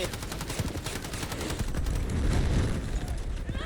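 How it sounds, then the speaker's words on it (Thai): Dense, rapid bursts of heavy artillery and gunfire booms pound continuously, loud and close, like a battle in the video game Delta Force. "ปืนใหญ่เข้าใส่"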